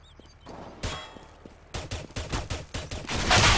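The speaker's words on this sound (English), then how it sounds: "Flashbang." Gunfire in a round of CS:GO: a sharp flashbang bang followed by rapid bursts of shots, loud and close, with a bright crackling blast near the end.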